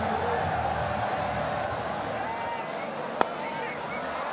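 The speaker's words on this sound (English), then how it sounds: "The crowd have been thoroughly entertained" A dense, steady roar from a sold-out cricket crowd at the Gaddafi Stadium in Lahore during a Pakistan vs South Africa T20I, sustained throughout with a single sharp crack partway through. A commentator's voice talks over it.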